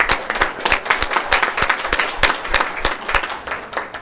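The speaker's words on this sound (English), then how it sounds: "would you join me in giving a round of applause to all of our first responders?" A council chamber audience gives a round of applause for first responders at a city council meeting, dense rapid clapping from a modest crowd that holds steady for a few seconds with no talking.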